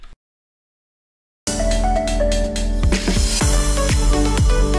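Orchestral track with a steady kick drum, entering loud and full after a second and a half of silence, its deep thumps pulsing regularly beneath sustained strings and layered instruments.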